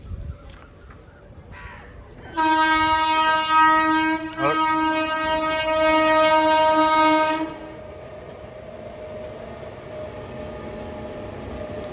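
An Indian Railways train passes close by and sounds a long, loud, steady horn blast lasting several seconds over the rumble of the wagons, then the horn stops and the rolling noise carries on, with crows cawing faintly around it.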